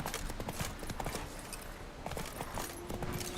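Roach the horse galloping in The Witcher 3: Wild Hunt, a steady run of clip-clop hoofbeats up close, dense and continuous over game ambience.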